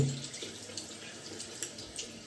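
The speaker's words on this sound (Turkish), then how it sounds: "Suyun altına atıyorum tıraş aletime." Tap water runs steadily over a safety razor at a sink, a soft continuous splashing stream with small irregular spatters, fairly quiet and close, with no voices.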